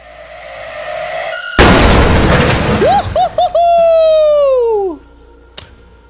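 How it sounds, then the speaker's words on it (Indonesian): A sudden loud blast erupts in the Roblox game Plunger Roulette, followed by a series of bright whistling tones that slide downward and fade out, with a faint click near the end. "Kita ambil hammernya dan kita pencet pakai ini. Harusnya dia akan meledak."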